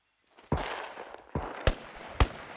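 Four sharp gunshots crack out in the survival video game SCUM, spaced irregularly over a couple of seconds, each a loud close report followed by a short decaying tail.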